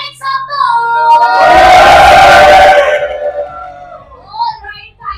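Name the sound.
audience cheering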